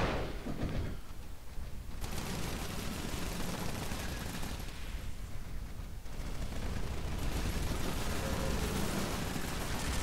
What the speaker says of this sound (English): Someone is shooting the hell out of you.